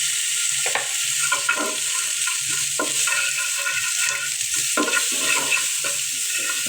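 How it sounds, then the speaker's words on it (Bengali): Chili and turmeric powder being stirred while frying in a pan, giving a steady close sizzle with repeated scraping strokes of the spoon throughout. "ভালোভাবে নেড়ে চেড়ে নিলাম।"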